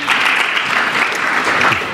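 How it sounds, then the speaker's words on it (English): A conference audience at a development forum in Istanbul claps, a brief, steady burst of applause from a crowd in a hall. "A round of applause, ladies and gentlemen."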